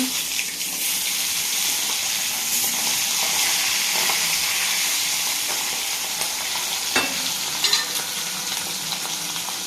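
Fish frying in a hot pan on a gas stove, a steady loud sizzle that runs throughout, with a few small clatters and scrapes as the fish is turned.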